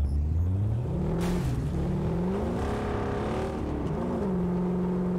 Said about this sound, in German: der Motor heult doch schon mal gut